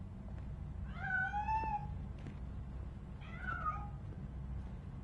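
A cat in the game Robocop Rogue City gives two distinct meows, the first longer and drawn out, the second shorter, over a low steady background hum.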